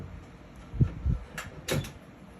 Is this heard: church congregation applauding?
no